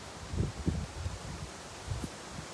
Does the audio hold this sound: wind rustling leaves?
yes